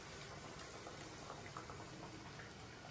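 Chicken lollipops frying in hot oil, a steady dense bubbling hiss, continuous and faint, with no talking.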